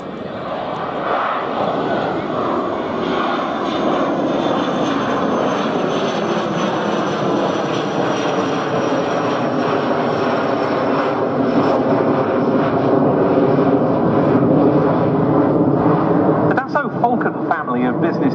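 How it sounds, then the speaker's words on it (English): A Dassault Falcon twin-jet business jet flies at an air show with a loud, sustained engine roar that holds steady and slowly shifts in pitch as it passes, while a voice talks over it. "Family of business jets started with the twin jet Falcon"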